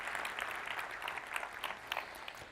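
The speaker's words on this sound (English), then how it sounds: "Give yourselves a round of applause." Audience applause at a conference, a dense steady wash of many hands clapping at moderate distance, fairly faint and even throughout.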